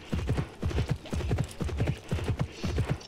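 Steady clip-clopping of horse hooves from the Horsez video game, a regular trotting rhythm of close, clear hoofbeats running throughout with no talk.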